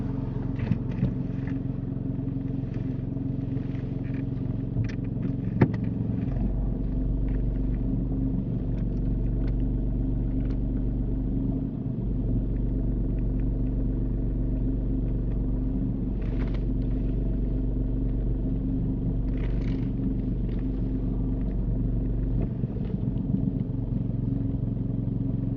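A car reversing back two car lengths close to the kerb during a UK mock driving test, its engine a steady low rumble that holds evenly throughout with faint clatter on top and no talking.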